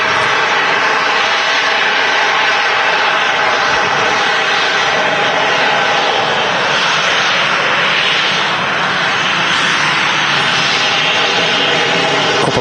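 A Jet2 Airbus A330 on approach to Manchester Airport, its engines giving a loud continuous roar that stays steady and full for the whole stretch, with no talk.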